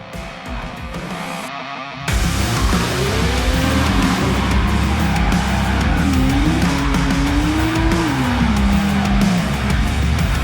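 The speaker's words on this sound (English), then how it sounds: "is getting on the tow truck now." A loud, steady engine rumble with a rising and falling mechanical whine, like a winch hauling a car up onto a tow truck, as a Mitsubishi Lancer Evolution VIII is loaded.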